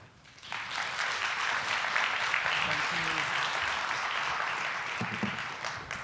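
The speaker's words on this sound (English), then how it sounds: "Talking over your clapping there." Audience at an airline innovation pitch contest breaking into sustained applause, rising quickly and holding steady, with a voice talking briefly over it.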